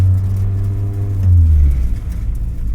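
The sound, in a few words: K24-swapped Mazda Miata driving slowly, engine vibrating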